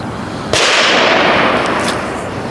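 A single sharp suppressed report from a rifle fitted with a HUXWRX Flow 22 Ti suppressor cracks from about 25 yards away, then decays over a second of outdoor ambience.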